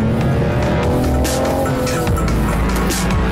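A 2021 BMW 4 Series Coupe driven hard through corners, its engine droning loudly and continuously close by, with tires squealing as the car is steered on the throttle.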